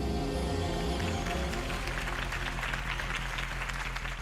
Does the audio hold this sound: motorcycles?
no